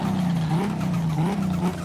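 A properly modified car fitted with a turbo pulls hard under acceleration, its engine holding a loud, steady droning note that rises slightly in pitch as it revs, close and continuous for under two seconds.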